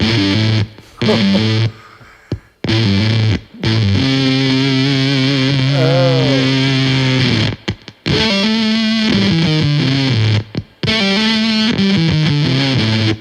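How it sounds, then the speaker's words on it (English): Electric guitar played through a Game Changer Audio Plasma distortion pedal, loud buzzy fuzz tones in bursts of sustained notes with abrupt cut-offs and short gaps of silence. "back talk is the plasma pedal, also from Game Changer Audio"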